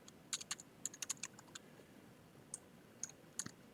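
Fingers type on a computer keyboard while HTML code is written, giving quiet, close clicks in short bursts and scattered single taps, with no speech.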